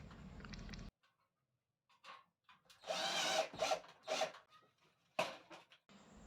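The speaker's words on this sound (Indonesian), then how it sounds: "lalu kita skrup ya." A power drill drives screws into light steel hollow section while a small trash basket is being built. A faint whirring opens the clip, then after a silent gap several short buzzing bursts whine and stop up close.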